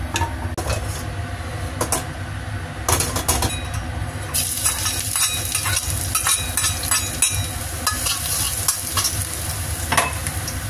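Tofu sizzles and fries in a hot wok while a utensil stirs and scrapes against the metal, clattering intermittently over a steady hiss.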